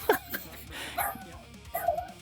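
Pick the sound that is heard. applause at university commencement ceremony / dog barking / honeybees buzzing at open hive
dog barking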